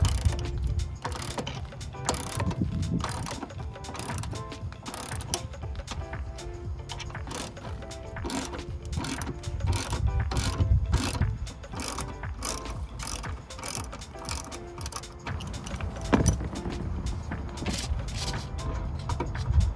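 Ratchet wrench clicking rapidly as a bolt is loosened on an under-rear-seat lockbox bracket in a 2019-2022 Chevrolet Silverado or GMC Sierra 1500 pickup; steady close mechanical ratcheting throughout with brief pauses, no talk.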